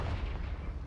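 A Confringo blasting spell goes off in Hogwarts Legacy as one short, loud, rumbling boom that fills the moment on its own.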